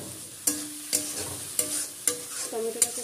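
Chopped tomatoes with spices are stirred in a pan over a soft sizzle, with about six distinct clinking scrapes of a utensil against the metal at uneven intervals.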